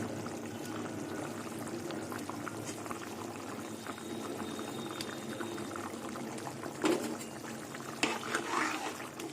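Thin fish curry broth with taro simmering in a pot, fried rohu pieces going in, a soft low bubbling with faint clinks and a couple of louder splashes near the end.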